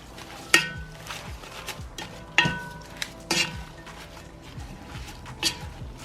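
Dry seasonings of onion powder, smoked paprika, salt, pepper and sugar being stirred together in a bowl, with scattered clinks and scrapes of a utensil and a few sharper knocks, close and fairly quiet.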